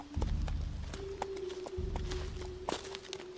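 Hooves of a ridden horse clip-clop in a steady walking rhythm, fairly close, over a low droning background, with no talk.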